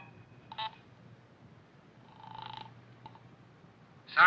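Telephone dialing in an old radio mystery drama, a few short separate tones or clicks spread over a quiet stretch, with a louder burst at the end.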